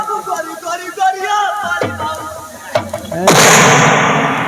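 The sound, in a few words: gunshots in a drama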